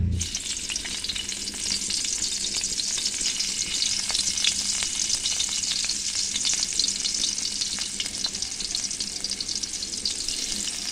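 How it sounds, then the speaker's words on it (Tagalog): Garlic sautéing in a hot pan as the base of a sweet and sour fish sauce gives a steady, dense sizzle and crackle. It holds even and close throughout, with occasional stirring scrapes and no talking. "Una na to ilunod ang ahos."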